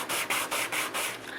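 Sandpaper rubs over a handmade wooden crochet hook in quick, rhythmic back-and-forth strokes, about six even passes, close and crisp with brief gaps between them.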